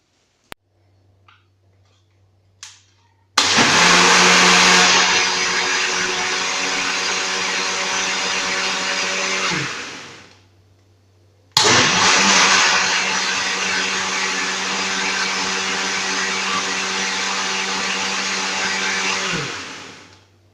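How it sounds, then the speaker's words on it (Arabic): A countertop blender mixes flan juice with cold milk in two long loud bursts of whirring motor noise, each running about seven seconds before winding down, with a brief pause between and small clicks before the first. "غادي نضيف لهم نصف لتر د الحليب بارد. نخلط جيدا."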